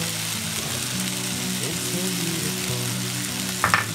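Vegetables tossed with garam masala in a frying pan give a steady close sizzle throughout, with a few louder scraping knocks of the spoon near the end.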